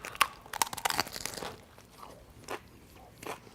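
Crunchy food is bitten and chewed in quick crisp crackles, a few sharp bites up close followed by softer munching at a Super Bowl halftime gathering.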